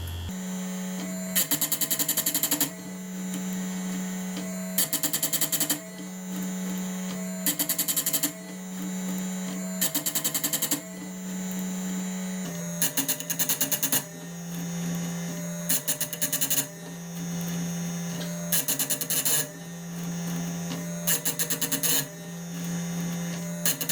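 Parkside PSG 85 electric chain sharpener running at a steady whine, its grinding wheel dipping onto a chainsaw chain again and again in harsh rasping bursts of a second or two, close and loud throughout.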